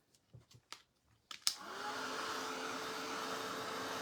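A hair dryer is switched on to dry blue paint after a few soft handling clicks, then runs as a steady, close, loud whooshing hum that continues unbroken to the end.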